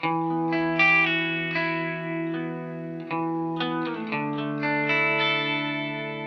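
Electric guitar chords through a Walrus Fundamental tremolo pedal at minimum depth ring out with sustained tone, carrying a very gentle, barely noticeable pulsing in volume.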